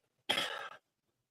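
One short, harsh cough, close and fairly loud, lasting about half a second before silence.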